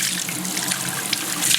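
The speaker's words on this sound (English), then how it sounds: "And you're just rinsing all that soap out." Running water splashes steadily over wet wool felt as soap is rinsed out, a continuous bright gush with small irregular spatters throughout.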